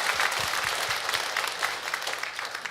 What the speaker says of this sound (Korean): 우리 하나님께 영광의 박수 한번 돌려드리기를 소망합니다